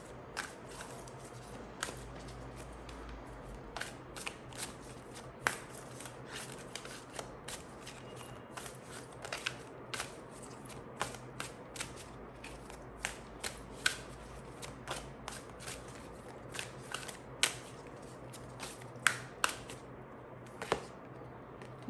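Oracle cards are shuffled close up in a steady stream of soft, crisp riffling flicks and snaps that repeats for about twenty seconds against a faint background hum.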